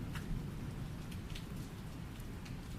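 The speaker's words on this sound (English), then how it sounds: "The rain poured down in sheets as I pulled up to the Crescent Lodge" Heavy rain pouring down in sheets for a horror bedtime story, a dense, steady roar of rainfall with scattered drop impacts, continuous throughout.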